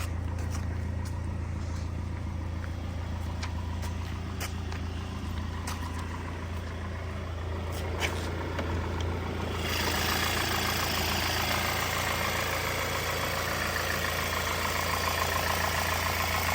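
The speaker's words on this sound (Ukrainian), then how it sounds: "Рівна робота мотора." A car with a frameless-glass body idles with the hood open, giving a steady low engine drone under a constant hiss. Partway through, the broad hiss grows noticeably louder and stays there, and no one talks.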